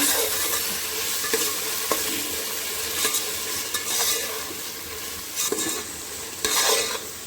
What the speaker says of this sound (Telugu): ఒకసారి బాగా కలుపుకొని ఈ టమాటా ముక్కలు కూడా మెత్తబడేదాకా మూత పెట్టుకొని మగ్గించుకున్నాము